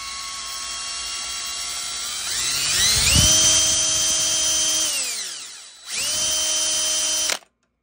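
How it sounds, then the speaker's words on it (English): A hand drill spins a diametrically magnetized magnet with a high, whining tone that climbs in pitch, holds, winds down, then briefly spins up again before cutting off abruptly. "we're just gonna rotate it on this hand drill and see what happens"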